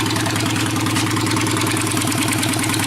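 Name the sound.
motorcycle engine idling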